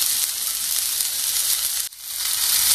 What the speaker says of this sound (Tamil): ஓகே, இப்போ வெங்காயம் வந்து நல்லா வதங்கிட்டது.